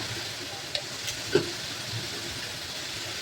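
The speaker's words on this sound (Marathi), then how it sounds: "आणि हे चांगलं आपण तेलावर परतून घेऊया." Coriander-cumin powder sizzles in hot oil while being sautéed with onion for a paneer dish, a steady close frying hiss with a few faint clicks of stirring.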